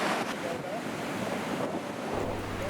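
Ocean surf and big swell at the Clarence River entrance: a dense, continuous roar of breaking waves, loud and steady, with wind buffeting the microphone and a low engine hum joining near the end.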